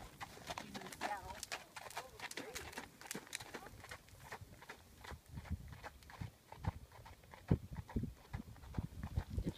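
A horse's hoofbeats at a running walk clop steadily in a quick four-beat pattern, fairly faint, with soft voices talking in the background.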